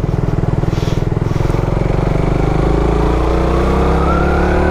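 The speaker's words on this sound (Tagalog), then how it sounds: "Salamat sa pagpapahiram ng motor pare." Suzuki Raider 150 FI motorcycle engine, loud and close, with a pulsing idle that smooths into a rising rev as the throttle opens.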